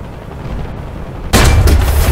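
A single loud tank cannon shot from a Leopard 2A4 in War Thunder, a sudden heavy boom breaking out of a low engine rumble and ringing on to the end.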